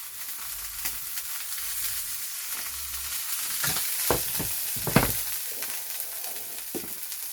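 Steak sizzling in an oiled pan, a constant close frying hiss broken by sharper spits and crackles as the meat shifts.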